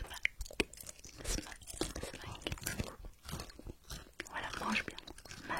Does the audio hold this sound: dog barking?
no